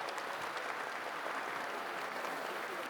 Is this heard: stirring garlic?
no